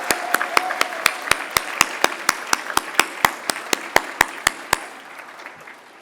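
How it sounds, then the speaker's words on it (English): An audience at the 2025 ServiceSource Service Excellence Awards claps for the logistical services staff. The claps are steady and evenly spaced, crisp and close. They hold for about five seconds and then stop abruptly. "A round of applause for our logistical services people."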